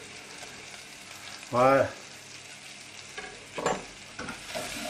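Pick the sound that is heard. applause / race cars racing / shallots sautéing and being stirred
shallots sautéing and being stirred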